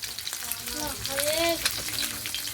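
Chili powder frying in a hot pan gives a steady, close sizzle with stirring scrapes, while a voice talks faintly underneath.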